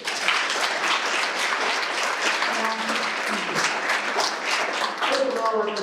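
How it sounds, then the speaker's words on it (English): An audience at an awards night breaks into steady, dense applause, a continuous wash of hand clapping that keeps up throughout without fading. "So can we have a applause for Mr."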